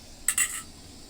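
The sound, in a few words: lid placed on a cooking pot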